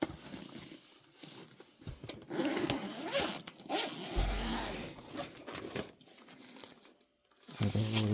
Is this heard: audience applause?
no